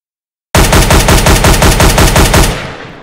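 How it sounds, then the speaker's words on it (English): Rapid gunfire from Team Fortress 2 weapons in a de_dust2 animation: a loud, dense automatic burst of about two seconds after a brief silence, fading off at the end. "Okay, firing, attacking, weapons hot,"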